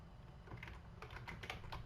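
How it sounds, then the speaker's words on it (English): Typing on a computer keyboard, a steady run of quiet, close key taps with irregular rhythm over a low background hum, entering notes into a presentation. "then typing in that reflection"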